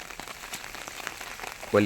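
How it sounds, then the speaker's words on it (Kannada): Heavy rain falls steadily outdoors at a wet farmyard with cement ground and chickens, a soft patter of drops under faint background, with a brief louder bump near the end. "ಫುಲ್ಲು ಮಳೆ ಬರ್ತುಂಟು"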